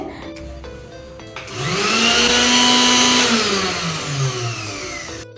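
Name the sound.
kitchen mixer grinder accidentally switched on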